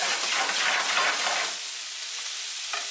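Saffron rice is stirred in a hot pot, giving a loud, close sizzling hiss with scraping that drops to a quieter simmer midway, then a brief scrape near the end.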